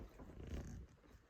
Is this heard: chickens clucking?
no